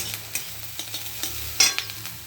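Chopped onion and chilli stir-frying in a pan for chowmein, a soft steady sizzle broken by repeated scraping stirs of a spatula, close and moderately quiet, with no talking.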